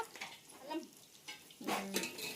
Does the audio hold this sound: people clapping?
no